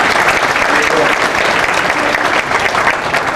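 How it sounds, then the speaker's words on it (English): Sustained dense applause from a crowd at a high school basketball banquet, steady and loud throughout with no break. "I think they need a big round of applause"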